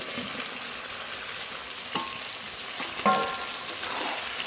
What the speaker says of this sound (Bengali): মাংস নেড়ে নেড়ে খুব ভালো করে কষিয়ে নিয়েছি